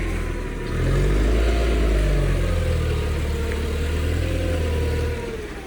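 A large John Deere farm machine's engine runs under throttle, a deep steady roar that swells after a moment, holds loud and even, then eases slightly at the end, with no talk over it.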